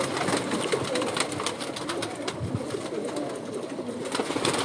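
Pigeons, a prized breed kept by a hobbyist, coo and flutter in a dense, steady chorus close by, with scattered wing claps and soft calls layered throughout and no voices.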